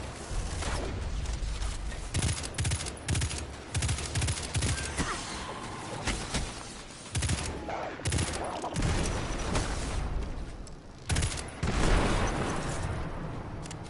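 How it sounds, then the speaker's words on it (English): Gunfire in Destiny 2 during a Hunter campaign mission, irregular rapid bursts and single shots of varying loudness over a dense battle din, with no talking. "Oh, it's shooting me from above."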